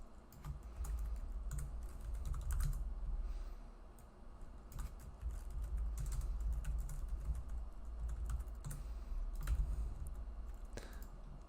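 Steady typing on a computer keyboard while coding HTML and CSS, with soft, close clicks in irregular bursts and brief pauses, fairly quiet throughout with no one speaking.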